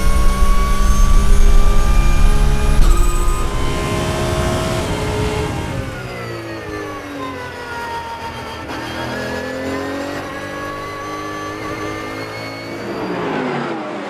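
Lamborghini Super Trofeo and Porsche race cars take a rolling start at Circuit Paul Ricard, Le Castellet, engines roaring loud and layered, with rising and falling pitch sweeps as the pack passes near and pulls away.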